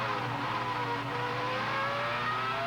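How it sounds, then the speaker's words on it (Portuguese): Ferrari Formula 1 engine of the 2003 season at the Australian Grand Prix, a high, sustained, steadily rising whine with dense harmonics, loud and continuous over the crowd-and-track roar, with no talk. "Tá aí matando saudade do som do motor da Ferrari"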